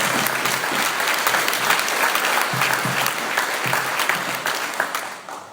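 Sustained audience applause fills a room at a pro-independence Yes campaign evening, a dense, steady wash of many hands clapping that holds loud throughout before easing slightly near the end.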